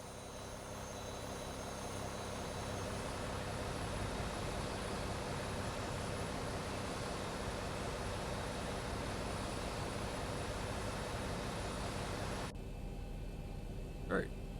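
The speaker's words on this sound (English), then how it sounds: "Enjoy some 737 sounds." A simulated Boeing 737 in X-Plane 12 gives off a steady, broad engine roar that holds at an even level for about twelve seconds, then cuts to a much quieter hum.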